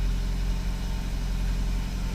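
A 2007 Toyota RAV4 with stalling, rough running and multiple circuit faults idles at close range, a steady low engine drone with no other sounds.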